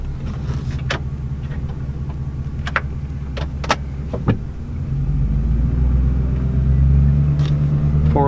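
A four-wheel drive vehicle on a riverside camping and fishing trip works its way free after getting stuck, its engine rumbling steadily and swelling louder toward the end, with a few sharp clicks and knocks along the way.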